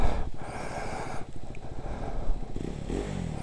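A KTM 390 Adventure motorcycle pushes through deep water, its engine rumbling steadily and loudly up close with churning splashes and clatter, the revs swelling near the end.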